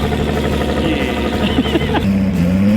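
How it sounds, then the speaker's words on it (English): A Nissan Laurel drift car revs for burnouts, its engine droning loud and close with a rising, sweeping pitch and a steady high-revving hold toward the end. "I really mean go right there and do some burnouts"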